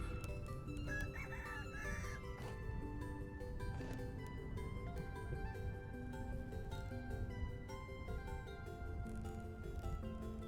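A rooster in the survival game Vintage Story crows and clucks repeatedly at a moderate distance. Steady background game ambience runs through the whole stretch, with no talking over it.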